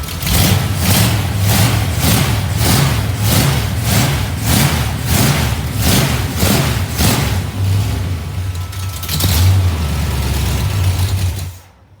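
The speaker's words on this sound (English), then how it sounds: "Like I say, you just saw a little bit of the revving." A small block Chevy V8 fitted with an RV cam revs in a rapid series of about a dozen loud, close bursts. It settles into a rough idle before cutting off abruptly.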